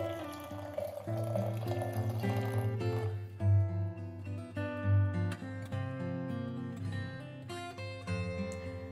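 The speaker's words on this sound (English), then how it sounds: "pour in hot boiling water and let it rest for 10 to 15 minutes." Boiling hot water poured into a glass teapot infuser holding tea and cardamom, a steady liquid filling stream with light clinks of glass, close and continuous throughout.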